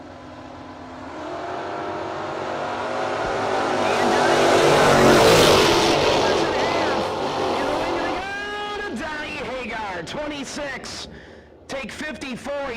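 A Pontiac drag race car roars past on a dragway, swelling to a loud, broad engine rush and then fading. An announcer talks over the tail of the run.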